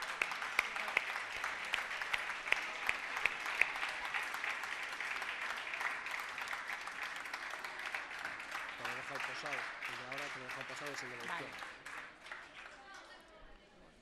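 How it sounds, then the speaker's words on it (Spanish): Steady audience clapping fills a room at a municipal sports awards gala, a dense even patter of applause continuing for several seconds before fading, with a faint voice underneath near the end. "Un aplauso."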